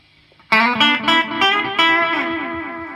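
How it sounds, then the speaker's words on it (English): An HH Electronic Digital Multi Echo unit repeats a struck chord several times in quick, evenly spaced echoes. The repeats are loud and close and fade gradually, with no talking. "which just affects the tonal quality of the echo"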